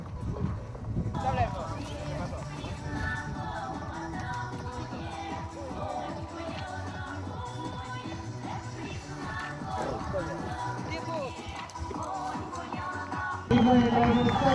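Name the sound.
horse hooves clip-clopping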